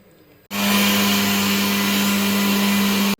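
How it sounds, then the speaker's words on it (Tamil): Mixer grinder grinding roasted black kavuni rice, starting abruptly with a loud steady whirring hum that holds evenly for under three seconds, then cuts off. "இப்போ வந்து இதை நம்ம அரைச்சிட்டு வந்துடலாம் நல்லா நைஸாக அரைச்சிக்கோங்க"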